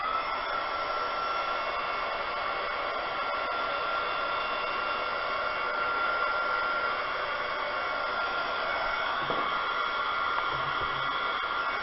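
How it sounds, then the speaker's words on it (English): A blow dryer runs continuously at a steady, even whir, heating epoxy resin, with a faint brief clatter near the end. "So maybe if I use the blow dryer"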